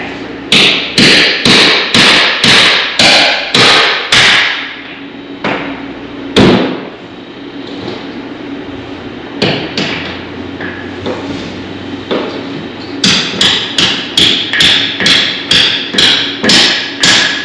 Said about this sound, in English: Oh, where's my hammer?